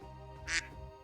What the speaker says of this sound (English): This is Donald Duck